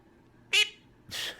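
A pet bird gives two short, bright beeping calls about half a second apart, close and clear against a quiet room.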